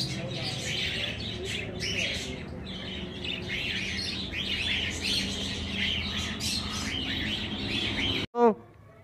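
Caged pigeons keep up a continuous, busy chorus of chirps and soft calls nearby, with a sharp sweeping sound right at the end.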